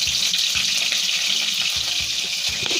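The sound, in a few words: chillies added to hot oil in a wok, frying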